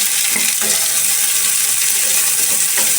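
Chopped onions added to a hot pan with cooked garlic and ginger, frying for matar paneer bhurji; a loud, continuous close sizzle with a few faint clinks of a utensil.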